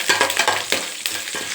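Curry leaves and cashews fry in oil in a pan for lemon rice. There is a close, continuous sizzle with rhythmic bursts as the pan is stirred, and no voices.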